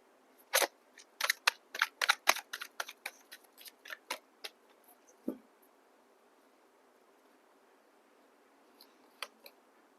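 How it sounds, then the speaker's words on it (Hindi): Tarot cards are drawn from a deck in a quick series of crisp card snaps and shuffling clicks, followed by quiet and a couple of faint later flicks. "अब इसी के ऊपर मैं थोड़े से टैरो कार्ड्स भी निकाल लेती हूँ"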